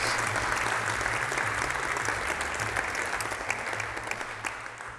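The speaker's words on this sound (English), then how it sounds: "A big round of applause, please." A crowd applauds a TechGirl award winner, with steady, dense clapping that continues throughout at a moderate level and eases slightly toward the end; low tonal music is audible beneath it.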